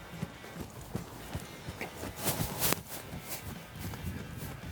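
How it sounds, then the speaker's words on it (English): A horse trotting around an arena during groundwork on lead changes, its hoofbeats a steady clip-clop rhythm at moderate distance over faint background noise. "trot him around a little bit"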